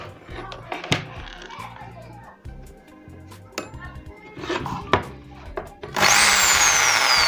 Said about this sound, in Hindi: यहाँ से जो ड्रिल मशीन है वो यहाँ से चलेगी